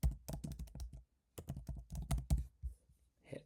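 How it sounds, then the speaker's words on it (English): Typing on a computer keyboard while entering a reason into screening software, two close bursts of rapid clicky keystrokes separated by a short pause, with a few scattered taps at the end. "Or you can simply type in a new exclusion reason,"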